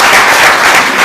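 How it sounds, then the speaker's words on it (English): A brief, loud burst of audience applause after a group presentation at a social business design lab, a dense, uniform wash of clapping lasting about a second, with no talk. "So let's give it another applause."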